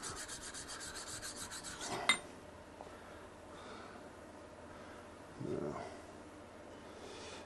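A knife blade drawn across a sharpening stone in a quick run of rhythmic rasping strokes, then a metallic clink, followed by quieter scraping and a brief rub later on.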